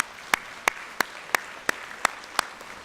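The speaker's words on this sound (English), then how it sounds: "So let's give her another round of applause." Evenly spaced, crisp handclaps ring out one at a time in a steady rhythm at a Rotary service fair, sounding like a sparse round of applause.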